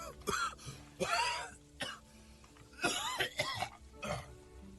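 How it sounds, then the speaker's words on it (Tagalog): A man with a worsening illness coughs repeatedly in an office, several harsh bursts and throat clearing spread over a few seconds, close and loud with no talk. "rinig na rinig ko yung ubo mo hanggang sa opisina ko"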